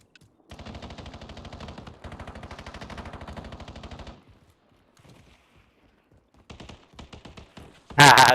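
Automatic gunfire in a shooter video game: two long rapid bursts close together, a pause, then shorter staccato bursts and a loud final blast.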